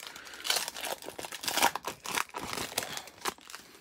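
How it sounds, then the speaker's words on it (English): Foil wrappers on 2020 Panini Score football trading card packs being torn open and crinkled by hand, a close, irregular run of crackling rips and crunches with no talking. "let's get open to our packs"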